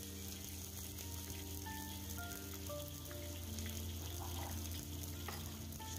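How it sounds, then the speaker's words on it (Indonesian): Chopped spring onions sautéing in hot oil, a very faint, even crackling sizzle that runs steadily with a low hum beneath it and no talking. "daun bawang yang sudah dipotong-potong langsung saja ditumis sampai harum"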